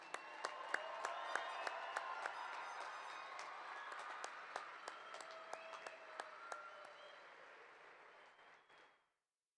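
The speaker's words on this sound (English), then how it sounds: "Please join me in giving this graduating class a round of applause for all of these achievements." An audience applauds a graduating class at a high school graduation ceremony, a dense sustained clapping across the hall that slowly thins and then cuts out near the end.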